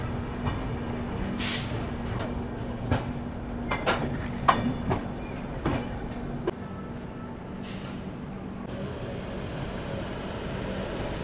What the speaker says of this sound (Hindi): प्लेटफॉर्म नंबर 1 से रवाना होने के लिए तैयार है Lucknow new Delhi AC superfast express.